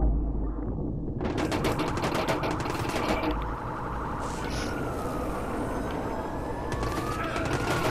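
Machine-gun fire in the Watch Dogs video game, rapid continuous bursts under a wailing police siren, loud and busy throughout, with a faint voice now and then.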